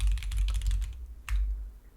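Typing TypeScript code on a computer keyboard: a quick run of close, crisp key clicks, then a short pause and a final brief burst of keystrokes, with no talking.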